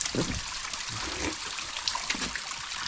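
Clean drinking water trickles steadily from a natural village water source, a soft, continuous faint flow with small splashes and no talking over it.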